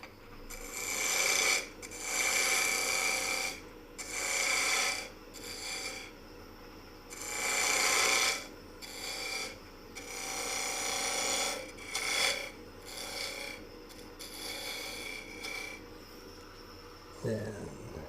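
Tool cutting a tenon on a spinning wood lathe while turning a lidded box: repeated bursts of rasping scrape, each a second or two long with short pauses between, close and fairly loud, no talking.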